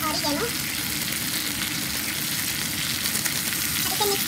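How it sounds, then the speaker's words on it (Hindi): Mixed vegetables sauté in melted butter over a high flame, salted and sprinkled with oregano, making a continuous moderate sizzle with faint stirring scrapes throughout. "अब सारी वेजीज को एक साथ ही ऐड कर देंगे। हाई फ्लेम पर ही हम इसे सॉटे कर लेंगे"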